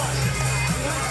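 A boxing match crowd roars steadily in a packed arena, with continuous broad cheering and shouting and a bit of voice mixed into the noise.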